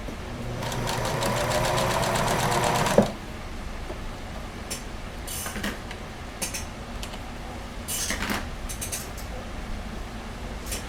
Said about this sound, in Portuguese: começo a costurar, baixo a agulha, dou uns pontinhos, dou um retrocesso.